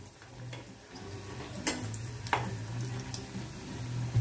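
Matar poha patties frying in hot oil give a soft, low sizzle, with a couple of sharp clicks and taps from the pan.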